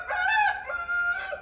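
A rooster crows at dawn, one clear cock-a-doodle-doo in a few rising and falling segments, close and loud with no voices.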